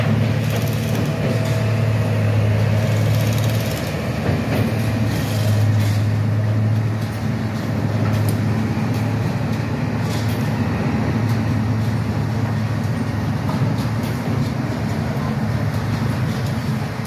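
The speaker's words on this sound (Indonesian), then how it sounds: "Sedang memperkuat rel dan bantalan." Heavy track-laying machinery placing rails and sleepers for a high-speed railway under an overpass at Mengger, Batununggal, a loud steady low diesel rumble with intermittent droning tones throughout.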